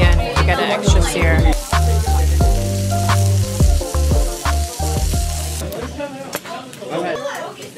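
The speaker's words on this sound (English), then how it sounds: "Kimchi off the grill. We're gonna cook it again to get an extra sear." Kimchi searing on a grill at a Seoul restaurant, a loud sizzle punctuated by clinks and scraping of utensils, with voices and background chatter over it.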